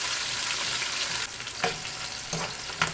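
Onions frying in a hot pot for Trinidad-style curry duck, a loud continuous sizzle close by, with a few sharp spoon scrapes and stirs breaking in during the second half.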